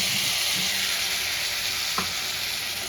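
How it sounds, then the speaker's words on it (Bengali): Paste made from two medium tomatoes fries in a pan of spices for a Bengali jackfruit and prawn curry, giving a constant close sizzle with a single stir near the end and no voices. "এইবার টমেটোর পেস্টটা দিয়ে ভালো করে কষাতে থাকবো"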